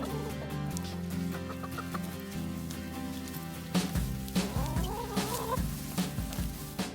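Hens clucking in a loose, irregular series over a steady low hum, with sharper calls growing busier in the second half.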